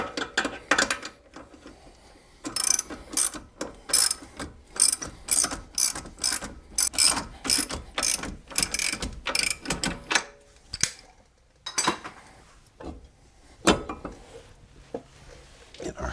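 A ratchet tightens coilover suspension bolts on a Pontiac GXP, a long run of rapid, sharp clicking strokes in repeated bursts, close and fairly loud, with brief pauses between sets and no talk.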